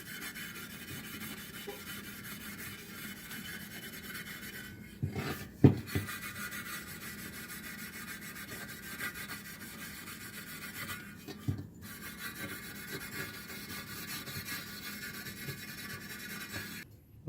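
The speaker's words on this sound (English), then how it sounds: "Now we're using a steel wool on the flange just to make sure it's perfect." Steel wool rubbed steadily across the flange of a rear differential cover from a Ford Expedition or F-150, giving a continuous close scratchy rasp with a couple of brief louder scrapes partway through.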